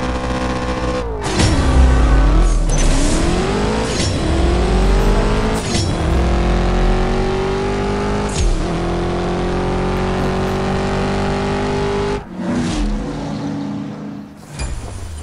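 A BMW LB M3 GTS race car engine in the mobile drag racing game CSR2, loud and close, revving with rising pitch through several gear changes with brief shift breaks, holding a strained high-rpm roar before dropping off near the end.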